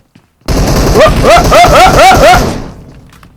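Rapid bursts of gunfire from PUBG Mobile, a close, loud run of about six or seven shots over two seconds that fades into a short echoing tail.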